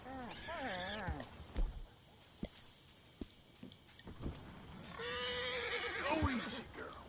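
A horse in the Red Dead Redemption 2 video game neighs and whinnies loudly at the start and again near the end, with hoof clops and scattered thuds in between and a voice speaking.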